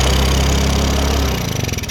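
A Yamaha Ray scooter engine idles roughly and unevenly, a loud, close, pulsing putter that wavers and turns choppy near the end.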